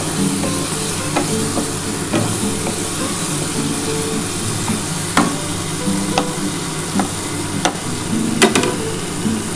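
Spices, pomfret and potato for a curry frying in oil in a pan, a continuous moderate sizzle with occasional sharp stirring clinks and scrapes, no talking.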